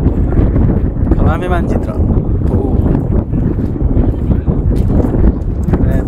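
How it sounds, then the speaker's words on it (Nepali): Wind blowing outdoors at a hilltop viewpoint in northern Norway, a steady broadband rush buffeting the microphone throughout, with someone talking over it. "हावा चलिरहेछ"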